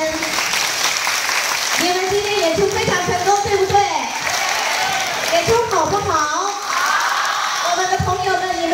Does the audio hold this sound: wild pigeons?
no